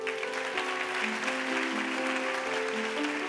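A church congregation applauds during a Christmas sermon, a dense, steady wash of clapping heard alone, with sustained organ or keyboard tones underneath.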